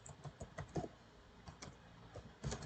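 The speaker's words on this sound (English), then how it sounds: "Just I'm typing some lines of information in the same file" Quiet, irregular clicking of keys being typed on a computer keyboard, with no voices.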